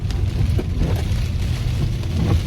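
Heavy rain pours during Typhoon Noru in Pakse, a steady, dense and loud roar of downpour close by, continuous with no pauses and no voices.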